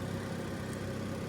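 An Astra car idles with a low, steady rumble through its exhaust, quiet and continuous with no revving.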